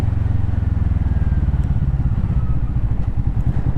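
A Kawasaki Vulcan S motorcycle engine thrums steadily while riding, a close, continuous low rumble with a throbbing pulse and light wind noise throughout.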